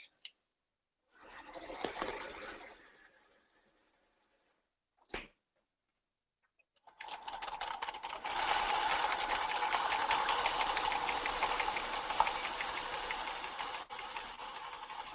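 Sewing machine zigzag-stitching the outside edge of fabric for a men's ballet tunic: a few brief, isolated noises, then a steady, close mechanical run that continues for about the second half.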